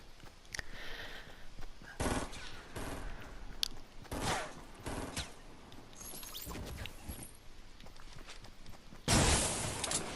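Gunfire in the Fortnite video game: scattered sharp shots and short bursts, some near and loud, others farther off, ending in a dense, loud volley.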